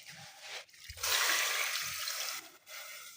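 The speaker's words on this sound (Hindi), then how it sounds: "अब इसमें पानी डालना है" Water is poured into a pot of beef and potato curry over browned onions and yogurt, giving a short, close splashing trickle that starts, swells and then tapers off.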